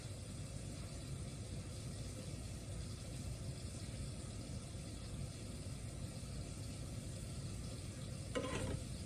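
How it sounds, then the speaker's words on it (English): Sliced pepperoni sizzles and crackles steadily in an oily frying pan while being stirred, a continuous close frying hiss with a brief clatter of the spoon near the end; no talking. "Give it a quick stir and turn this back on"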